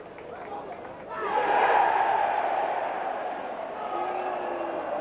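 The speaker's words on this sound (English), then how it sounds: "the big cheer you just heard is for Oldham 8, Widnes 4 at Norton Park" Rugby league stadium crowd letting out a big swelling cheer that rises after the first second and slowly fades, distant and echoing, with a commentator's voice faintly beneath it.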